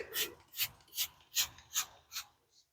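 Tire cleaner being scrubbed into a car tire with a brush, six rhythmic rasping strokes at a steady pace, close and fairly quiet, with no talking.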